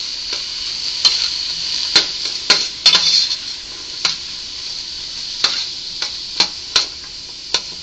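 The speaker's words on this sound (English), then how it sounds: "Add onion and garlic and cook, stirring often until the onion is starting to brown slightly" Chopped onion and garlic sizzle steadily in olive oil in a Dutch oven over medium-high heat, with a spoon scraping and clicking against the pot in irregular strokes throughout.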